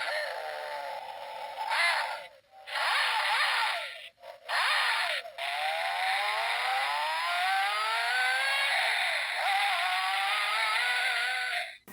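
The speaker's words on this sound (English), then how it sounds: "if you press down on the vehicle, the engine will start and accelerate" A small toy engine revs up in bursts, then a long rising whine as it accelerates, close and fairly loud with no talking.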